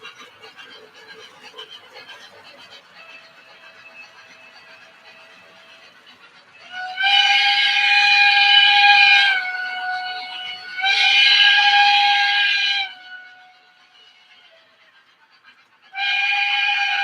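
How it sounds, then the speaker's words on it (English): An O scale model train engine sounds its whistle in three bursts, two long toots then a third starting at the end, clear and fairly loud over a faint background hum. "Such a goofy whistle on that engine."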